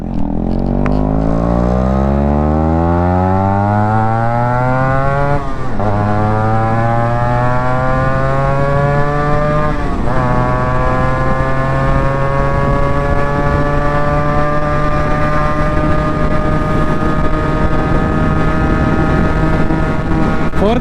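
Yamaha RXZ 5-speed two-stroke motorcycle fitted with a 4-speed silencer, loud and close, revving hard through rising gears with sharp shifts and a sustained high-pitched engine wail.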